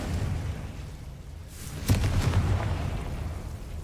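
A spell explosion from the Hogwarts Legacy video game: a sudden burst near the middle, followed by a crackling, rumbling blast that rolls on over continuous game ambience and music.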